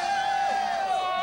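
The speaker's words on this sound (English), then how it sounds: "obviously a riled up crowd here for an exciting matchup tonight" A riled-up crowd cheers loudly and continuously at a high school basketball game between Firelands and Akron St. Vincent-St. Mary, with whoops and yells rising over a dense, steady roar.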